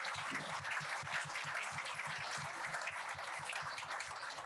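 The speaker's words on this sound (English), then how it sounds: "Can we get a round of applause for that?" Steady applause from a crowd, dense clapping sustained throughout at a fairly even level, with no talking over it.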